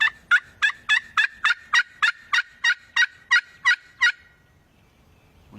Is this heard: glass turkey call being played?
yes